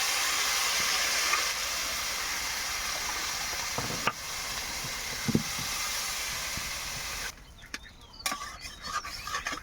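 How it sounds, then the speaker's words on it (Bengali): Water hits a hot pan during fish curry cooking, giving a loud, continuous hissing sizzle that holds steady for several seconds, then drops to quieter bubbling and a few clinks. "এবার দিয়ে দেবো আমি জল।"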